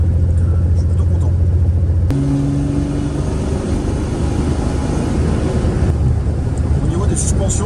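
An old Dart car, back on the road after years off it, keeps up a steady loud engine drone and road rumble with wind noise, and the engine note shifts partway through.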